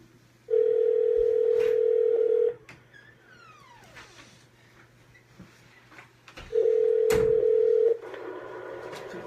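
A telephone call rings out: two long steady ring tones separated by a few seconds of quieter line noise with faint chirps, no voices, heard through the handset.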